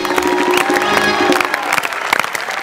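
A school anniversary audience claps loudly and steadily, a dense wash of applause with a few faint cheers mixed in.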